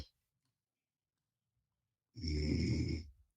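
A single loud snore, one rasping, throaty inhalation lasting about a second, comes after near silence.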